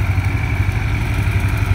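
An International 454 tractor with a 50-horsepower engine runs steadily while mowing an old garden, giving a loud, close, continuous low rumble with no breaks.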